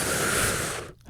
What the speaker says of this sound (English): I bet you guys love that breathing into the mic.